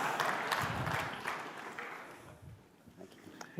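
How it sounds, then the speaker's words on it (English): Audience applause in a conference hall as a general walks to the podium at an opening keynote, steady broadband clapping that gradually thins and fades toward the end. "Keep the applause going while I walk over there."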